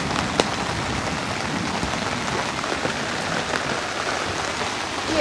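Heavy rain falls steadily on a pop-up camper and its canopy, a dense, even patter. A few sharper drop impacts stand out from the constant wash.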